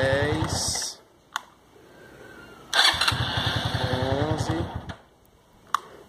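Motorcycle engine being started on a recovered battery, with loud rhythmic starter cranking in two long bursts separated by short pauses and sharp clicks.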